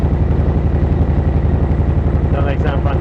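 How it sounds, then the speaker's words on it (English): A 2018 Harley-Davidson Softail Heritage Classic with a Vance & Hines Eliminator 300 exhaust idling close by, a deep, loping, uneven rumble with a raspy edge that pulses steadily throughout. "you've got that kickback from the exhaust and you've got that rasp deep sound"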